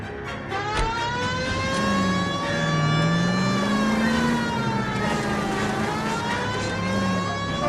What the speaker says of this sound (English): Get in and drive.